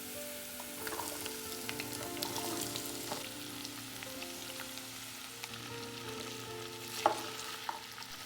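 Cut potatoes and garlic fry in a pan with a soft, continuous sizzle, punctuated by scattered stirring clinks and one louder knock near the end, without any voices.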